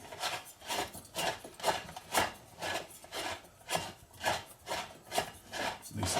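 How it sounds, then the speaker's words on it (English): A propane cylinder is threaded by hand onto a small yard-sale mini oxy-MAPP torch, giving a steady run of about a dozen rhythmic scraping, rasping turns, close and moderately loud, with no talking. "And then the propane screws on normally."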